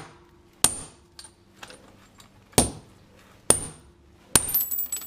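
Four sharp metallic hammer blows ring out at uneven intervals against a frozen Harbor Freight Bunker Hill chain, loud and close with short jangling decays, the last strike followed by rattling links.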